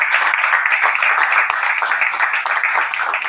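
Steady applause from an audience for a pickleball team, a dense, even wash of clapping holding at constant loudness throughout with no voices standing out.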